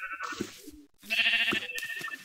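Sheep bleating in the video game Minecraft, two loud wavering bleats close by, separated by a brief pause, with no talk over them.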